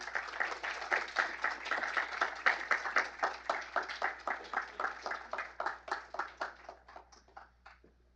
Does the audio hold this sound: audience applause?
yes